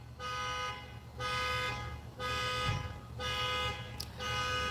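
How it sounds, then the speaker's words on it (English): An alarm blares in repeated long tonal pulses, about one per second with short gaps, heard from a distance over a low background hum. "I don't know who set off the alarm over there"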